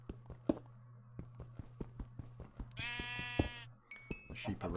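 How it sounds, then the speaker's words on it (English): Sheep in Minecraft 1.9 bleat loudly in two distinct calls, one long and one shorter, over a rhythmic series of pickaxe-like clinks as coal is mined. "The sheep are rather loud."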